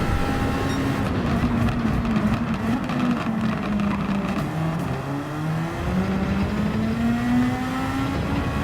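A Super Formula single-seater races around the Catalunya circuit, its engine droning steadily then climbing in pitch as it accelerates out of a corner on fourth gear, loud and continuous throughout with no talk.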